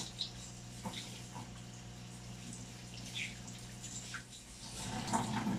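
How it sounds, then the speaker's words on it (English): Tap water runs faintly and steadily while hands are rinsed during a handwashing demonstration, a soft, low-level wash with a few slight drips and splashes and no talking. "Now let's rinse our hands thoroughly."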